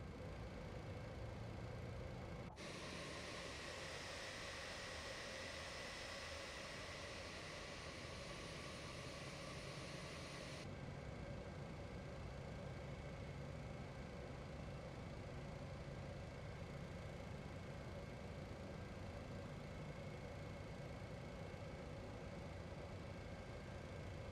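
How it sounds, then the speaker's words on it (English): Boeing 707 engine number 1 spooling up in MSFS 2024: a steady whining turbine hum with a high tone that enters near the start, holds for several seconds, then settles into a constant idling drone. "And finally, engine number 1. Engine start valve open."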